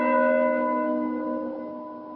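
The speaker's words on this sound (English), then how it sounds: "The church bell would be tolling from morning to evening because of so many deaths." A church bell tolls once, a single rich ringing strike that slowly decays, heard alone and fairly clear.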